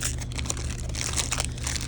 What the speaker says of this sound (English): So the first thing I'm going to do is prepare my Model Magic by opening it up